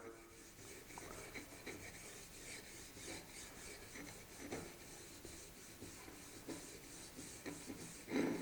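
Spray-painted wood rubbed by hand to distress the finish and wear through to bare wood, a steady raspy scrubbing in repeated strokes, close and fairly quiet, with no talk.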